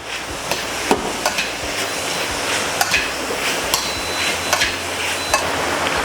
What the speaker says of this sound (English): whilst our pork is cooking in there, we're going to add in, I've got some carrots, some peppers, some onions